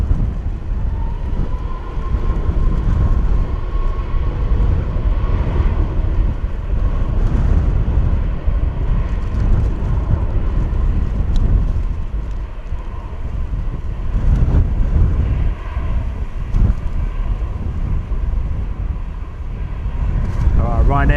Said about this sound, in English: nice bit of runway spray there from the Ryanair 737